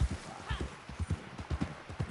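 Horse hooves clip-clop in a steady galloping rhythm in Red Dead Redemption 2, close and moderately loud, with a brief whinny near the start and low background game ambience.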